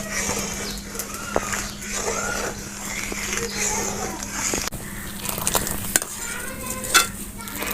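A spoon stirs milk reducing in a pot for homemade yogurt, with continuous scraping and occasional metallic knocks over a low steady hum, while someone talks throughout.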